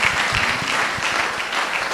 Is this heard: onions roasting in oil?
no